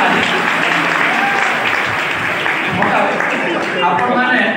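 A crowd applauding at a Nuakhai Bhetghat gathering, dense sustained clapping that stays loud and close throughout.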